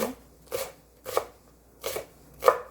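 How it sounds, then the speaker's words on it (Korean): A knife slicing a stalk of green onion on a cutting board, five crisp, evenly spaced chops about half a second apart, close and clear with no talk. "대파 한 뿌리 썰어줍니다. 어서썰기 해주세요."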